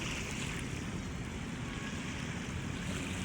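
Sea waves at low tide on Manila Bay, a steady broad wash of surf mixed with wind rumble, continuous and fairly faint with no talk.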